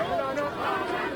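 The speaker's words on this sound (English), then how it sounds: "and so the chanting also increases" A crowd chants and shouts together on a road, a close and busy wash of many voices with a rough rhythm to it.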